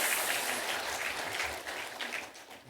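A church congregation applauds during a sermon, a warm steady clapping from many hands that gradually fades away, with no talk over it.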